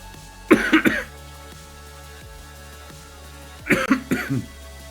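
Two short bursts of harsh, raspy coughing, one early and one near the end, separated by a quiet stretch with a low background hum.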